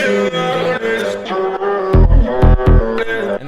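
An EDM track built from stacked layered vocals, a higher harmony stack doubling the melody over synths, with heavy bass hits thumping in a short rhythmic burst near the end.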